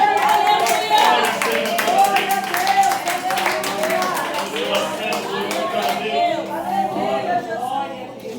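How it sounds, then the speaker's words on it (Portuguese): Congregation clapping in praise during a church healing service, brisk and rhythmic, with voices talking or singing over it. "Você pode aplaudir o Senhor."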